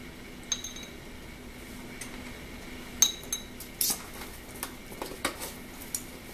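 A metal teaspoon clinks lightly against a container while measuring pepper, a scattered series of small, faint taps and chinks with quiet pauses between them.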